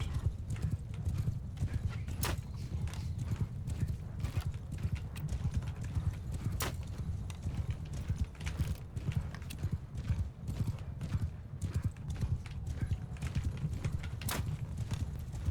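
A horse gallops in the video game Mount & Blade Bannerlord with fast, continuous rhythmic hoofbeats throughout, sharp clicks scattered on top and faint talk in the background.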